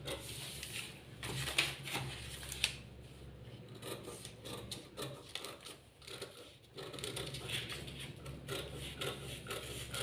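Scissors cut along a drafted line on a paper tailoring pattern for a slip, giving a string of soft, close snips and paper rustles at a fairly low volume.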